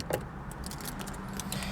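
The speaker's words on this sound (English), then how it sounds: "let's take the keys out of the ignition here." Car keys jangling as they are pulled from the ignition of a Fiat 500 Abarth, a brief close metallic rattle of a few light clinks in a quiet interior.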